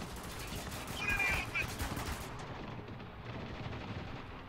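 Automatic weapon fire in the war shooter Spec Ops: The Line, a rapid rattling burst at moderate distance amid rumbling battlefield noise, fading into low background din.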